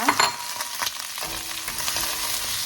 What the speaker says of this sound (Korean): 야채를 지금 볶고 있습니다